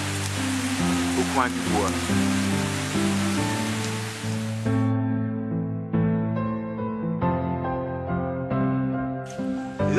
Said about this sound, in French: Nous sommes sous une pluie torrentielle.